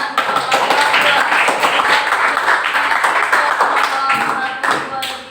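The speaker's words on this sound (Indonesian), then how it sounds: "beri tepuk tangan untuk" A classroom of students applauding after group presentations, loud, close, somewhat uneven clapping with individual hand claps standing out, lasting several seconds before tapering off near the end.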